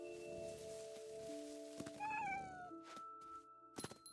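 Cat meowing in the video game What Remains of Edith Finch, several clear rising meows over a steady tonal game ambience, with a few separate short calls toward the end.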